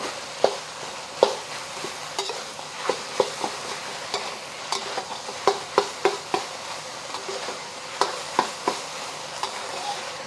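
Minced pork fries in a pan with a light steady sizzle, broken by irregular sharp scrapes and clacks of a utensil stirring and breaking up the meat.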